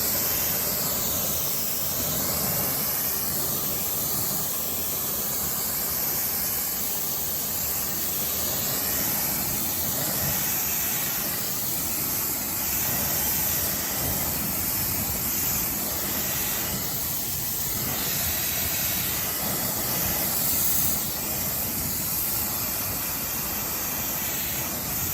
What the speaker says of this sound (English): ready to rinse it clean